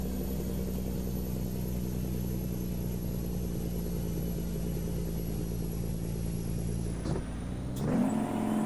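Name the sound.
truck engine accelerating in American Truck Simulator video game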